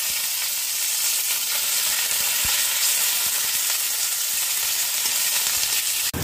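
Garlic and green chilies fry in hot oil with black cumin and cumin seeds, giving a loud, dense, steady sizzle that fills the whole stretch with a few soft stirring knocks and no talking.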